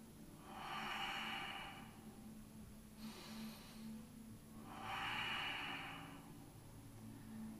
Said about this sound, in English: Breathing in, breathing out deep.